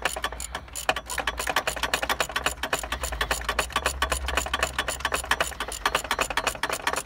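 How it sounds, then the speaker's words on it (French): On a Golf 3 TDI with 90 hp, an engine mount bolt is tightened with a ratchet or impact tool, producing a rapid steady rattling clatter up close, continuous and fairly faint. "On resserre."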